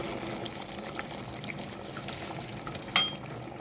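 Cooked chickpeas tipped into a simmering masala curry make a soft wet pouring and bubbling sound, steady throughout with one brief sharp clatter near the end.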